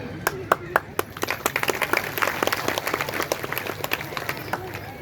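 Audience applause at a Marathi kirtan, steady scattered clapping from many hands filling the space, with a murmur of crowd voices underneath.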